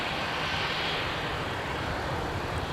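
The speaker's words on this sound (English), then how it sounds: "I hear somebody taxiing." A winter jet airliner, an ex-Northwest aircraft, taxiing on taxiway Whiskey toward a west-side runway at Minneapolis–St. Paul airport: a steady, distant engine roar and hiss that holds unbroken throughout.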